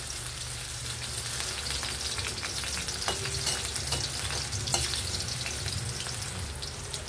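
Potatoes fry in hot oil in a pan for chicken caldereta, a steady close sizzle with occasional scraping stirs and small pops, no talk over it.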